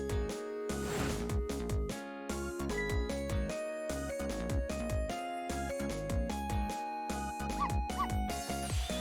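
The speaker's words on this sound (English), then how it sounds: "Yes, you guessed it, I barked." Video game dog barks and yips from Ghost Trick: Phantom Detective, a steady run of short chirpy synthesized barks and whimpers laid over continuous game music, with no talking.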